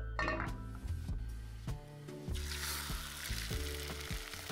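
Butter sizzles and crackles in a hot frying pan for an omelette, a soft hiss that swells into a fuller, steady fry partway through, with faint utensil clinks and background music underneath.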